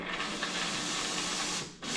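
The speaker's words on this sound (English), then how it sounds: "spray some heavy duty steam into it" A Dupray Neat Plus steam cleaner sprays heavy-duty steam onto carpet, a loud continuous broadband hiss that dips briefly near the end and then resumes.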